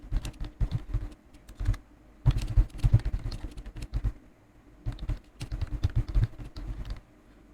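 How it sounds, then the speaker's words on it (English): Fingers tap rapidly on a computer keyboard in three bursts of clattering keystrokes, close and distinct, separated by short pauses. "I'm going to type any text or information"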